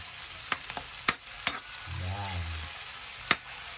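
Green chili frying in a pan for spicy sarsyadong bangus gives a steady close sizzle, broken by a few sharp utensil taps and scrapes, with a brief low murmur partway through.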